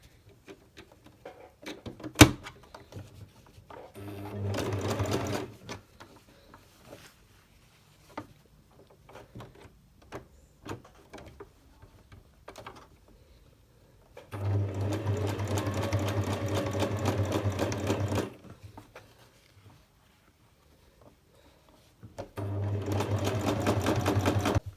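A sewing machine stitches a flap onto denim cargo pants in three steady whirring bursts, with quiet pauses and handling clatter in between.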